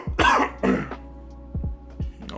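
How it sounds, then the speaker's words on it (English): A congested person coughs a few times in quick, raspy bursts, close by in a cold room, followed by softer throat clearing. "Sorry if I'm coughing a lot."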